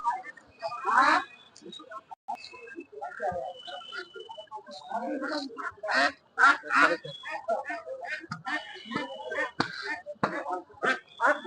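Ducks being sold at a village market near the Bangladesh border quack and honk in short bursts close by, mixed with bargaining voices and market chatter throughout.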